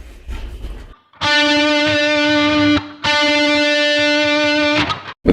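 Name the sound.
single picked note on distorted electric guitar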